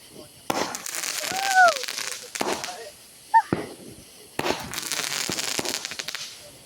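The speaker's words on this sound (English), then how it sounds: "we got some fireworks going over there" Fireworks going off nearby outdoors, a few sharp bangs and crackling bursts with a whistling rise, separated by pauses, with people talking in between.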